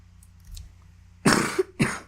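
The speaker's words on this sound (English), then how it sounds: "Sorry about me coughing, guys." Two sharp, harsh coughs burst out close up after a moment of near quiet, the second following shortly after the first.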